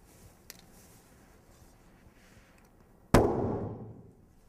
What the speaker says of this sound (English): Burning hydrogen creates a chemical explosion.